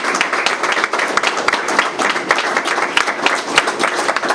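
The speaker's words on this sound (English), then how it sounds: "Let's give a round of applause to the team here." Crowd applauding airport authority staff at an airport announcement event, a dense steady wash of many hands clapping, close and loud throughout.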